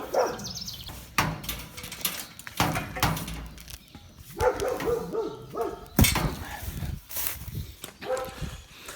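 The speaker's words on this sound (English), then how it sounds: "Neighbors' dogs." Neighbors' dogs barking outdoors in rural Illinois, several irregular barks at moderate distance over rustling and movement nearby, with a bird faintly present.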